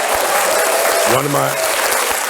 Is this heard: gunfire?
no